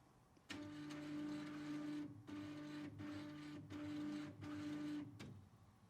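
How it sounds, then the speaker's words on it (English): A Ricoh RI 1000 3D printer runs a steady mechanical whir with a constant tonal hum, breaking into four or five bursts separated by short pauses, loud and close with no talking. "we can now begin to power on the printer"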